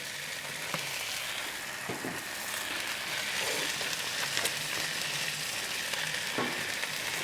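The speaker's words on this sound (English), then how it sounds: "Just gonna throw the potatoes and the onions down right now." Potatoes and onions fry in butter and oil on a Blackstone griddle, a dense, steady close sizzle with a few scattered pops and ticks.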